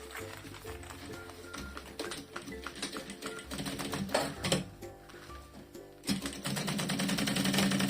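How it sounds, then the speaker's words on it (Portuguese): A sewing machine runs a continuous edge seam, fastening lining to synthetic fabric for a zippered pouch, its rapid needle clatter steady and close, growing a little louder toward the end. "vou fazer uma costura à beirinha em toda a parte aqui do fundo"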